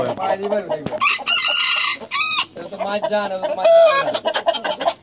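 A fighter rooster on a farm crows and clucks close by, with several loud, strained crow phrases broken by short clucks and pauses.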